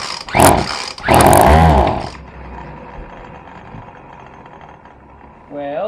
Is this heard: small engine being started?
yes